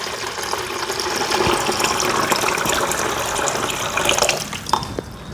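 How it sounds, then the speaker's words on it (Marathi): Water pours steadily into an ice maker tray, filling it up to the maximum line in a continuous close gushing stream. "पाणी ओतून घेते."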